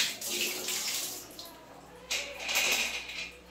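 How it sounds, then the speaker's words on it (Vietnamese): Water runs and splashes into a home electric water heater tank being rinsed out, a steady rushing stream in two bursts, closer and stronger in the second half. "Các bạn sẽ tiến hành xung cho nước vào và rửa 2 đến 3 lần cho sạch hoàn toàn đi."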